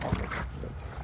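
Four-week-old puppies give a faint, brief whimper up close, a soft high whine over low background noise lasting under a second.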